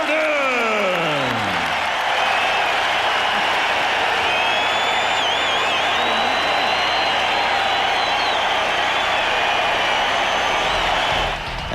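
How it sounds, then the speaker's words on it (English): Chicago crowd giving Michael Jordan a standing ovation at his last game there, a steady wall of applause and cheering from a large arena audience with occasional whistles, loud and unbroken throughout. "After a 4-minute standing ovation, MJ ready to address the crowd."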